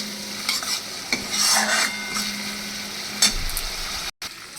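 Spice paste frying in oil in a pan for a rohu fish curry, a steady sizzle with several scraping strokes of a spoon stirring it, close and fairly loud.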